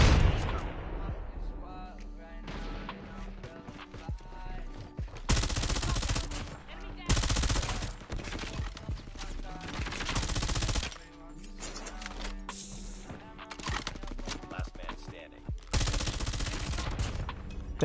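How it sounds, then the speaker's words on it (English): Call of Duty Mobile gunfire rattles in repeated loud bursts of rapid automatic shots with brief gaps, along with heavier blasts and game music, while a player talks over the action. "That was not the guy that was shooting at me."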